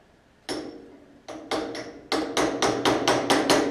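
A hammer taps a suspension ring off an A2 rally replica car, starting with one sharp metallic strike, then after a pause building into a quickening run of about ten ringing blows, close and clear with no talk.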